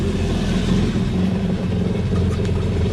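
A jet ski engine idles after a freshwater flush, a steady mid-pitched motor drone with low rumble and slight rough pulsing, close and continuous without talk.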